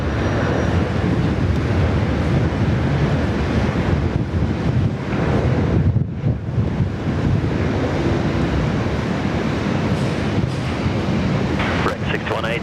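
Strong wind at Sydney Airport roars as a constant, loud buffeting rush across the microphone, with a muffled voice partly buried underneath.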